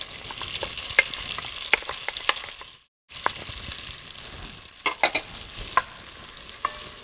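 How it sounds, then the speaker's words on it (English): Onions and garlic sizzle in melted butter for a loaded baked potato soup, a steady close hiss with clicks of stirring. The sound drops out briefly, then the frying resumes with a few sharper pops. "now that our butter is starting to melt, we're going to go ahead and add in our onions and the garlic"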